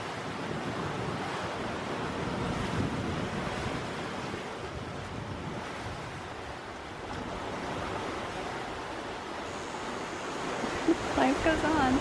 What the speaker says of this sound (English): It's so hard to capture on camera, but these are 9 to 10 foot seas.